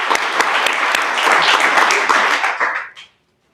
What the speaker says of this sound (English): So let's give a round of applause for Tiara Ekman.